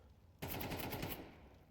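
A short, dense burst of rapid automatic gunfire from the Counter-Strike video game, lasting under a second, then a fading tail.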